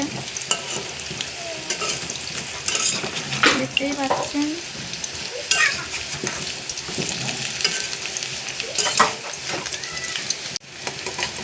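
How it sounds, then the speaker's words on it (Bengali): Potato pieces fry for beef kacchi biryani, cooked village style, with a constant crackling sizzle and the scrape of stirring. A voice speaks briefly over the frying. "আলুগুলো কি সুন্দর লাল লাল করে ভাজা হয়ে গেছে"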